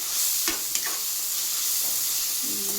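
A fenugreek and turmeric mixture sizzles steadily in a pan on a North Karnataka style stove, with occasional spoon scrapes as it is stirred, close and fairly loud with no talking.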